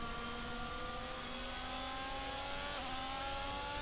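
Race car engines whine at high revs with shifting tonal pitches as one car overtakes another in a racing video game session in Spain, a steady, fairly faint mechanical drone with no talking.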